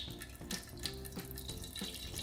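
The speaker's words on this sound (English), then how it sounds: "It's kind of splashing everywhere even though it doesn't look like it." A cheap kitchen gadget sprays liquid, a continuous wet splashing and running-water sound with small dripping accents, fairly faint and steady throughout with no talk.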